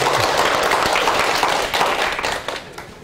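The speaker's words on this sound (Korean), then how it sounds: "박수와 함께 해서 시작하도록 하겠습니다." Audience applause opening the second session of a Korean lecture on Indian Buddhism and Madhyamaka philosophy, a dense steady wash of many hands clapping that holds for about three seconds and thins slightly toward the end.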